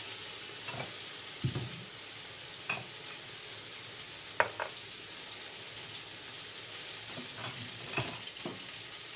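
Potatoes and ridge gourd frying in a pan, a steady low sizzle broken by several sharp scrapes and clinks of a stirring spoon, close and moderately loud, with no voices.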